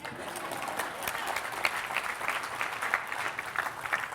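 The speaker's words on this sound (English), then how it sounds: "I think that's a good time to clap on that." Audience applause at a smart cities talk, steady dense clapping throughout, moderately loud and sustained without a clear break.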